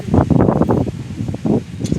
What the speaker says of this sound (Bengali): এই হাওয়া দিলে যদি মেঘটা কেটে যায়